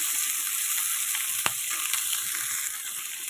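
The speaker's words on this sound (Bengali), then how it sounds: "এটা আমি এখন সুন্দর করে নাড়াচাড়া দিয়ে এটা ভালো করে আমি ভেজে নেব" Pangas fish fries in oil, a steady bright sizzle with one sharp clack of a spatula and a few lighter stirring touches.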